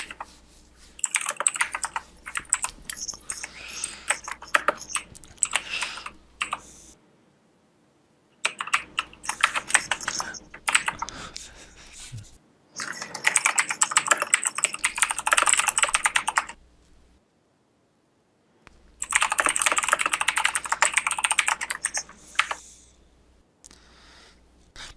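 Rapid clattering keystrokes on a computer keyboard in four long bursts broken by short silent pauses, close and clear, with no one talking.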